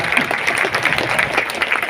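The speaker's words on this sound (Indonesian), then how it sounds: "Boleh tepuk tangan lebih keras lagi untuk Bu Kofifa." A crowd claps steadily, a dense, continuous patter of applause from many hands in a room, with no pause over its two seconds.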